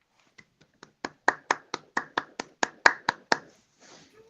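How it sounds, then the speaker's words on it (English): About a dozen sharp, dry claps in an even rhythm, building from faint to firmer and then stopping, close and isolated with no talk over them. "Golf clap. Golf clap."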